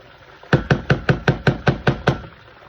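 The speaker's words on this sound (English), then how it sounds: "Make sure I get all this out with my spatula." A spatula knocks against a ketchup container while the last of the ketchup is cleared out for homemade barbecue sauce: eight evenly spaced, solid taps, close and fairly loud, with no talking.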